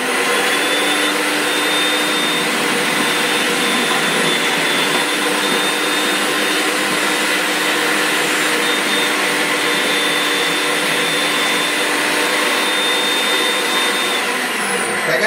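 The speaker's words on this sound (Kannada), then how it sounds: "ಈ ಕ್ಯಾರೆಟ್ ಇದೆಯಲ್ಲ, ಸೆಕೆಂಡ್ ಅಲ್ಲಿ ನಿಮಗೆ ಬಂದು ಕಟಿಂಗ್ ಆಗುತ್ತೆ, ಅದು ತೋರಿಸ್ತಾ ಇದೀನಿ ನೋಡಿ. ಜಸ್ಟ್ ಆನ್ ಮಾಡ್ತೀರಾ" A food processor with a slicing attachment cuts carrots, giving a loud, steady motor whine that runs without pause the whole time and has no talk over it.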